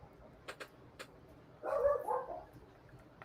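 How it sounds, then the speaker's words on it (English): A dog gives a single short, mid-pitched bark-like yelp at moderate distance, preceded by a few faint clicks and taps in an otherwise quiet room. "He's got to bark."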